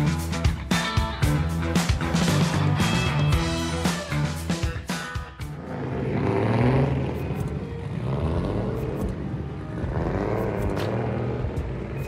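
Drift cars on the Navarra circuit, loud engines revving and roaring, with sharp bursts and fluctuating pitch, then a more distant, rumbling engine drone.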